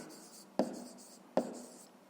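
A pen writes by hand on paper while working out a fifth-grade maths exercise. Two sharp taps of the pen touching down are each followed by soft scratchy strokes, close and quiet, with no talking.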